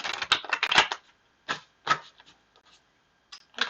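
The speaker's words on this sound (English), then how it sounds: "I'm just shuffling cards here." Tarot cards being shuffled during a reading, heard as a dense run of quick, crisp riffling clicks for about a second, then a few short isolated flicks and taps with pauses between them, close and fairly quiet, with no talking.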